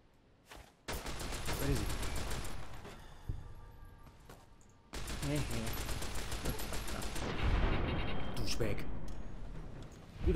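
Sustained gunfire erupts in a Fallout New Vegas video game fight, two long dense stretches of rapid shots separated by a brief lull, loud and close.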